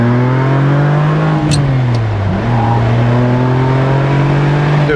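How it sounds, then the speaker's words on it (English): Steady, loud tonal hum from a Tesla Model S Plaid Track Pack in motion, a smooth electric-motor whine that dips briefly in pitch before settling, with faint brief clicks overhead and no talk. "So here we are with the Tesla Model S Plaid with the track pack."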